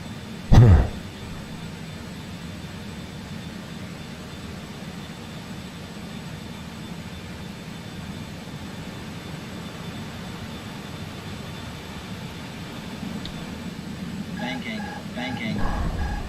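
A jet in Microsoft Flight Simulator 2020 runs on afterburner, making a continuous low, rumbling roar that holds steady and swells slightly near the end, with a brief sharp noise at the start.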